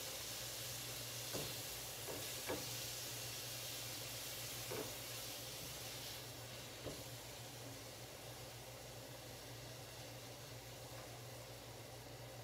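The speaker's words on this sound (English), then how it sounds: "Saute them in our skillet. With our half a stick of butter." Chopped onions sauteing in half a stick of butter in a skillet, a steady broadband sizzle with faint occasional pops and clicks, constant throughout.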